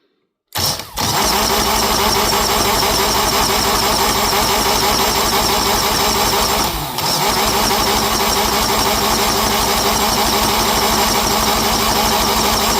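A diesel engine with unwired glow plugs cranks briefly, catches and settles into a loud, steady clattering idle with a short dip midway.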